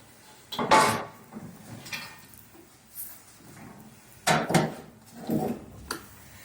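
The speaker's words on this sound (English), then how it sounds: "So now it's time to put our loaf into the oven." A loaf pan of brown bread going into an oven: a few separate clunks and metallic knocks of the pan, rack and oven door, close, with quiet gaps between.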